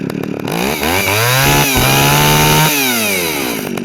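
A two-stroke Echo 330EVL chainsaw with a freshly tuned carburetor, running up close and loud, with a brief rev at the start before it settles into a steady idle that dips and swells slightly.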